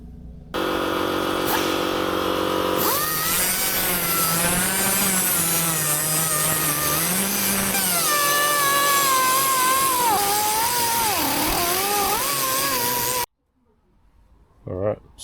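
A rotary tool fitted with sandpaper and Scotch-Brite ports an intake manifold for a Ford 5.0 LTD, whining loudly and steadily for a long stretch, with its pitch wavering as it bites into the metal, then cutting off abruptly.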